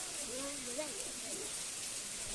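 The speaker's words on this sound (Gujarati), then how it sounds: "વરસાદ પણ આવી ગયો જો એક નંબર વરસાદ" Heavy, steady rain pours down in a continuous broadband hiss, with a voice talking over it throughout.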